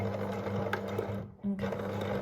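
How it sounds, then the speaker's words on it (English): Sewing machine back stitching fine fabric, a steady close motor hum with a brief dip and stall midway as the fabric jams, then resuming. "So here we go, I'll back stitch as well."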